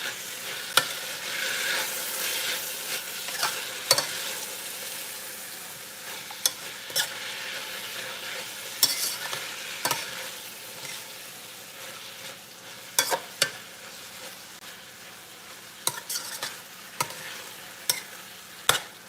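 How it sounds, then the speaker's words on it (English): Meat cooks in a pot for chow mein and stew chicken, a soft continuous sizzle broken by frequent sharp clicks and scrapes of a utensil being stirred against the pot, close up, with no talking. "Right, so we have the meat cooking here."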